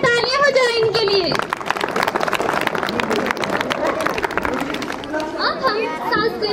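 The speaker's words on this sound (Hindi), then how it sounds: "एक जोरदार तालियां हो जाए इनके लिए।" Applause at a school annual function, a dense, close burst of clapping from students and audience, with children's voices and chatter on top and an announcer speaking at the start and end.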